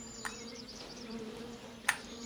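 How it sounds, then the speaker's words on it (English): A soft, continuous insect buzz of bees in the video game The Vale: Shadow of the Crown, with a steady hum and two brief sharper accents. "මී මැස්සන්ගේ සද්ද ලං වෙනවා"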